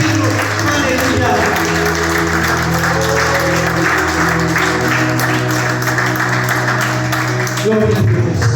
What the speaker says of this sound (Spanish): Denle un aplauso al Señor, iglesia